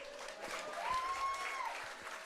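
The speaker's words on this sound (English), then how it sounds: "Much to the applause of the Royals faithful" Crowd applauding at a Guelph Royals baseball game in Hastings Stadium, a faint, distant patter of clapping that swells briefly in the middle while a voice speaks over it.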